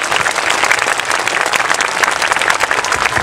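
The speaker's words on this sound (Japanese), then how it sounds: "箕輪選手そして津田山 FC の皆さんにもう一度大きな拍手をお願いいたします" Supporters in a stadium stand give loud, sustained applause to departing football player Minowa and the Tsudayama FC youth players at a farewell ceremony, dense overlapping claps from a large crowd filling the whole moment.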